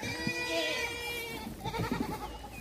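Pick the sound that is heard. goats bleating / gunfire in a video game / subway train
goats bleating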